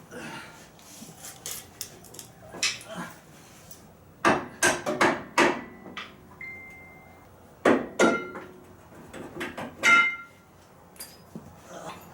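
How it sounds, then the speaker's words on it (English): Rubber mallet pounding a stubborn lower shock bolt out of a 2002 Ford 4BT Expedition during a lift kit install, a series of irregular metallic whacks in bunched clusters with quiet gaps. "Sometimes those lower bolts can be stubborn on the shock, so rubber mallet, pound it out."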